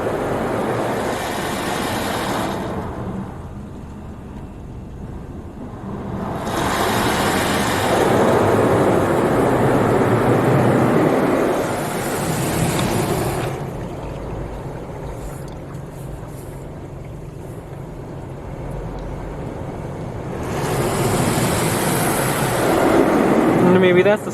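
Spot-free rinse water sprays hard onto a car inside a soft-touch car wash in Forney, Texas, coming in loud broad waves that rise and fall between quieter gaps, with the cabin enclosing the sound.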